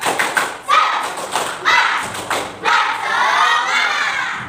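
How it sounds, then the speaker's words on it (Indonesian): Students in an Indonesian classroom perform a rhythmic spirit clap, sharp clusters of hand claps falling in patterned groups, loud and close, with young voices chanting along between and over the beats. "Ya, tepuk semangat."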